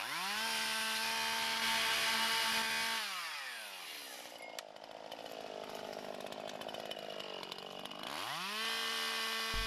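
Chainsaw cutting the hinge of a felled tree, engine revving high, dropping in pitch under load as the chain bites into wood, then climbing back to a loud whine, close and continuous.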